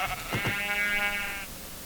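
A Minecraft sheep bleats when hit: one clear, wavering baa lasting about a second, close and alone, after a couple of short thumps.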